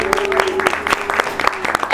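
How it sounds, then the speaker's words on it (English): A studio audience claps for a special guest, Alderman Desmond Yancy, at a live political talk show, with scattered sharp claps in a brief burst and voices mixed in. "Let's clap for him."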